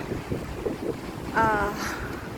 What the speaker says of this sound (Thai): วันนี้คลื่นค่อนข้างแรงนะคะ